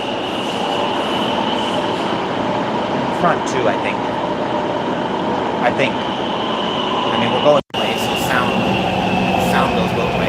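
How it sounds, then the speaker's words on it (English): Metro train running loud and steady from the back car, with continuous rumbling, rattling and wheel noise filling the carriage; people talk over it throughout, and a brief dropout comes near the end. "Getting noisy. Back of the train is always crazy."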